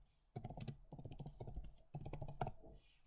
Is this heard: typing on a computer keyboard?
yes